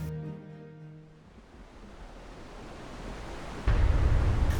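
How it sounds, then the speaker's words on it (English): A river swollen by rainy-season flow in Costa Rica rushes in a steady broadband roar, fading slightly then surging louder and closer near the end, with a brief tonal hum at the start. "This time I came during the rainy season, so the river had a strong flow."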